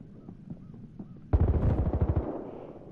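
Gunfire in Battlefield Hardline on PS4, a few sparse shots followed by a sudden loud, rapid burst of automatic fire that rattles on for about a second before fading.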